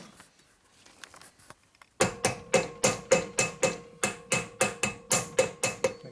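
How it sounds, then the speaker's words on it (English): Hammer striking a nail into a Harley shovelhead motor part, about fifteen sharp, loud metallic blows in a steady rhythm after a quiet start, ringing briefly after each hit. "nail with a hammer."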